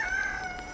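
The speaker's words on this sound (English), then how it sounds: "Having a little father-son crow-off" A rooster crows on a small homestead in winter, one brief, loud, near call with a steady tonal pitch.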